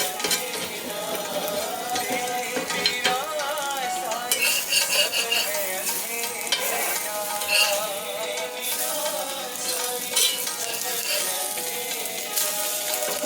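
An omelette cooks in a pan with a continuous sizzle, mixed with scraping and light metallic clatter of a utensil against the pan, and no talk.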